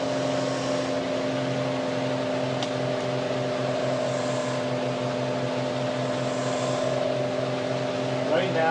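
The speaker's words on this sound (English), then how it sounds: "Using a ceiling fan switch here to accelerate or decelerate the motor, set a stable speed." Electric motor driving a homemade generator, held at a steady set speed by a ceiling fan switch: a constant, even hum and whine that runs unbroken and fairly loud throughout.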